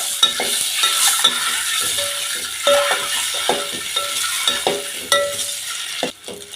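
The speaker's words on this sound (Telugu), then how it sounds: "ఫ్రై చేసుకోవాలి ఆయిల్లో" Boiled eggs fry in hot oil with turmeric, a steady close sizzle broken by repeated spoon scrapes and clinks against the pan as they are stirred.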